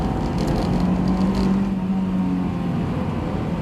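Honda S2000 engine under full throttle in Japan, a steady droning engine note from inside the cabin with a faint rising tone, continuous and fairly loud throughout, no voices.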